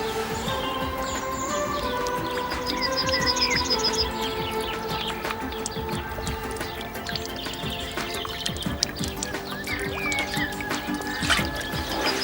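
Rapid, irregular drips of water patter steadily through an improvised filter into a container, close and continuous, with birds chirping faintly in the background.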